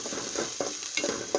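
Onion and ginger paste is stirred in a pan over a constant frying sizzle, with soft rhythmic scrapes of the spoon about every third of a second.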